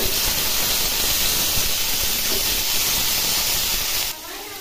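Potatoes, eggplant and two green chillies frying in a pan give a loud, steady hissing sizzle up close that drops away sharply near the end.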